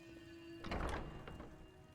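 A door swings open in the Skyrim video game, giving a soft wooden thunk and rattle followed by a fainter second knock, quiet over a low steady hum.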